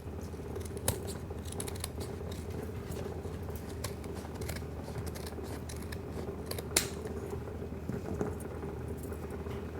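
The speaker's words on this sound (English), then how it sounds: "After it's hardened, you can cut it with scissors." Repeated crisp snips of scissors cutting through hardened Fosshape, close up, with a few sharper clicks along the way and no talking.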